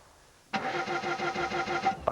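A Rolls-Royce car engine cranking and failing to start, a rapid rhythmic whirring of the starter motor for over a second, close and loud, then cutting off.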